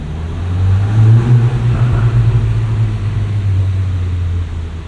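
A 2024 Volkswagen Golf R engine runs with a low steady drone that swells a little as if being revved, then holds fairly even; close and fairly loud, no talking.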